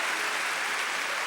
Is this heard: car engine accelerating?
no